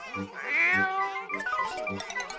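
An animated kitten meows repeatedly in a high, sing-song cartoon voice, several drawn-out calls close and clear, mixed with short musical tones.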